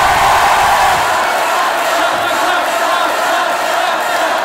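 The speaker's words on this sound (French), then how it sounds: "Et là, ils viennent d'applaudir" A comedy show audience roars in a dense, loud crowd sound of cheering and whooping that holds steady throughout rather than separate hand claps.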